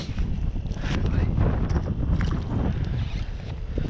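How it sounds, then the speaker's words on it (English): A strong, cold gust of wind sweeps across the ice at an ice-fishing spot in Iowa, roaring and buffeting the microphone in loud, rough surges that stay up for the whole stretch. "Dude, that wind whipped hard. Just for no reason."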